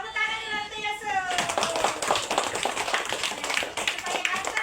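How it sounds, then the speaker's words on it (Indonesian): After a brief spoken line, a group breaks into brisk clapping for a child named Yusuf at a religious children's gathering, a quick, close patter of hands lasting several seconds. "Tepuk tangan dulu untuk Yusuf."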